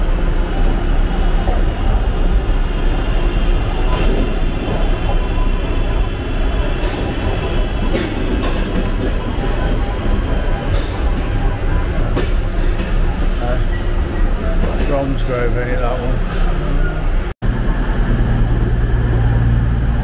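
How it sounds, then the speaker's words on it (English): A train pulls out of a Birmingham station bound for Plymouth, its steady rumble and rolling wheel noise filling the platform, with a rising pitched squeal toward the end and a few voices under the din. "that train's off to Plymouth"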